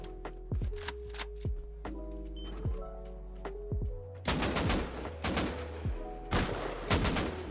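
Automated turret in the game Rust Console firing bursts of gunshots, sharp cracks in irregular clusters that get denser and louder toward the end.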